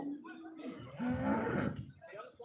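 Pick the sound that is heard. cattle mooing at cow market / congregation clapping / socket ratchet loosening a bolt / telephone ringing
cattle mooing at cow market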